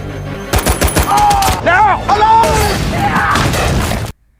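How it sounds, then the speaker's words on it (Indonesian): Tank cannon blasts and bursts of machine gun fire erupt in a loud war-movie battle scene, with sharp repeated shots, heavy booms and overlapping shouting voices and music throughout. "Dengan bermodalkan peluru meriam dan senapan mesin yang dipegang oleh Norman, mereka semua pun mulai membabi buta menembaki semua orang."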